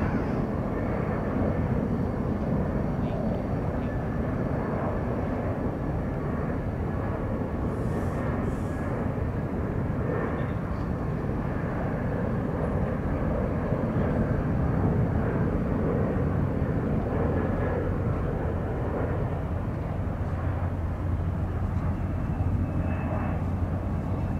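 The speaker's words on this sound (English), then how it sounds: "And planes and train horns in the background." Steady, broad rumble of aircraft engines at a distance, a continuous roar of planes, including a heavy jet, moving around San Francisco airport with no talking.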